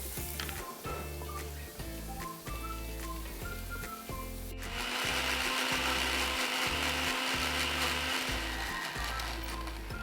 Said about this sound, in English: this base, I want to blend so it's nice and smooth and creamy.